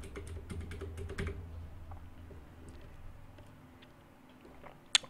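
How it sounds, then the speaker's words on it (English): Rapid typing on an Adesso mechanical keyboard fitted with Cherry MX Blue switches, a dense run of clicky keystrokes that thins out into scattered taps, with one sharp loud clack near the end and no talking. "MX Blue switches. It's the only kind of switches that Adesso offers for their keyboards."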